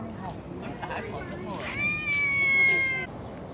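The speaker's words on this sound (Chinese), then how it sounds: "这里有2只猫咪" A cat meows on a ten-level hiking trail in Taiwan, drawing out one long, clear, close meow with softer calls around it, over outdoor background and a murmuring voice.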